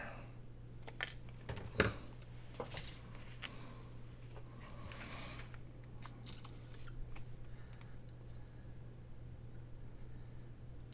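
Scissors cut material for a handmade tag journal, making a few faint, crisp snips with one sharper cut early on, over a steady low hum and no talking.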